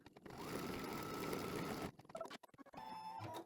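An embroidery machine stitches rapidly to tack down the edges of a table runner, a steady mechanical whir that runs for about two seconds, then stops and restarts in short bursts.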